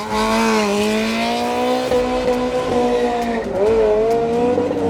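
A Ferrari 348 mid-engine sports car with 320 horsepower drives past loud and close, its engine droning steadily with rising and falling revs and no talk over it.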